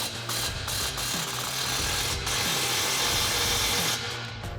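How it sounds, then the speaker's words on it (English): A ratchet wrench with a 15mm socket cranks down an exhaust clamp on a 2019 Silverado 1500 single exhaust system, clicking continuously and loudly at close range with an even, rapid rhythm. "grab your 15mm socket and tighten down your clamp"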